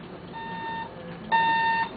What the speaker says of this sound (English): And now he's beeping.